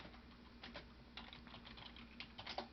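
Keys clatter on a computer keyboard as an ipconfig release command is typed, a quick irregular run of soft, close clicks over a low steady hum.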